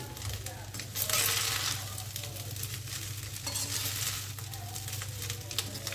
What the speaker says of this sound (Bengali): আরেকবার নাড়াচাড়া করে নিচ্ছি যাতে নিচের দিকটা না বসে যায়।